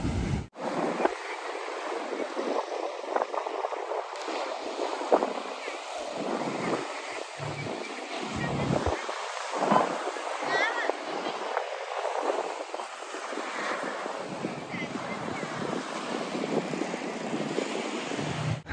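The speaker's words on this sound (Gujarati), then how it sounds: "પવન અત્યારે જરાક વધારે છે" Strong outdoor wind buffets a microphone on a family outing, producing a continuous rumbling roar with gusty surges throughout, with people talking faintly underneath.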